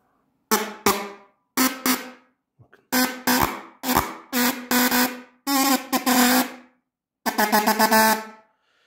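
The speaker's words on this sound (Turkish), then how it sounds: "Şurada manyetik alan oluşunca korna çalıyor." A car horn powered by a 12-volt computer power supply blares in short loud bursts, sounding about six times at irregular intervals with silence between, close and harsh.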